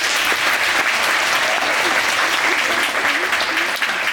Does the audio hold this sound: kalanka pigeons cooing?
no